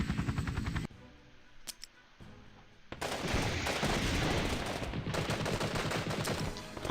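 Rapid automatic gunfire from Apache attack helicopters rattles in a Cold War strategy game battle set in Central Germany, a dense burst, then a brief lull with a few isolated shots, then sustained loud firing to the end.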